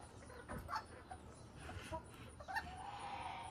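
Backyard chickens kept alongside geese cluck at feeding and watering time, a few faint, scattered calls over a quiet, low background hum.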